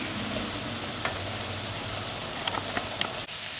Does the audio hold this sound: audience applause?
no